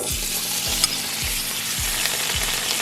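Steady sizzling of carrots sautéing in butter in a pan, with soft rhythmic scraping strokes of a spoon stirring every half second or so.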